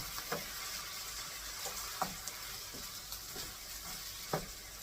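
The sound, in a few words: stirring eggs and bacon together in a pan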